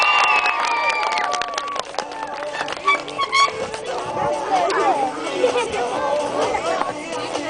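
A crowd at an extreme mountain bike show cheers and shouts for a rider, with loud whoops, whistles and excited voices overlapping throughout.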